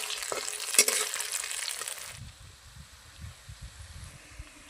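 Chopped onion, coriander, green garlic and spices sauté in a kadhai with a loud, bright sizzle for a couple of seconds, then settle into quieter rhythmic scraping and stirring.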